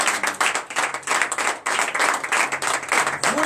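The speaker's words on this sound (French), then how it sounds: "donnez l'acclamation à l'Éternel." Steady, dense clapping from a congregation at a morning prayer service in Benin, many hands applauding together in a continuous, fairly loud rhythmic wash that barely dips before resuming.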